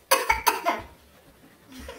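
A couple of sharp, close coughs in quick succession, followed by a quieter throaty sound and near silence.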